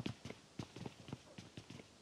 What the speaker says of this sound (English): They would be able to hear those footsteps.